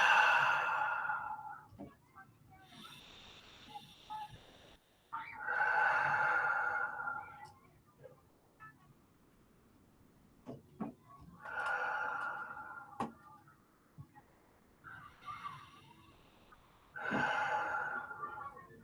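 A group of students take slow, deep breaths during a school assembly meditation exercise, with several long audible exhales repeating in a steady rhythm and quiet pauses between them, at moderate volume.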